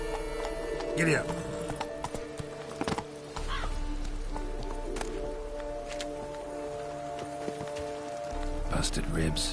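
Horse hooves clip-clopping at a run in a dark detective video game, a steady rhythmic pounding under rain-like hiss and game music, with a voice speaking briefly over it.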